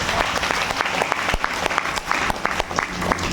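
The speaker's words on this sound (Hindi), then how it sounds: "जोरदार तालियां आप सभी के लिए" Enthusiastic applause from an audience at a motivational success seminar, dense and continuous clapping throughout with a few sharper individual claps standing out.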